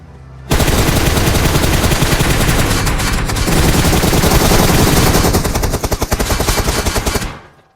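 Sustained, loud machine gun fire from a battle royale shooter, several automatic weapons rattling in dense continuous bursts for about seven seconds with no voices.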